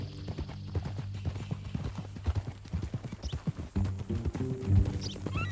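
Horse hooves clip-clopping at a walk in Red Dead Redemption 2, a steady close rhythm of hoofbeats with game dialogue voices faintly underneath.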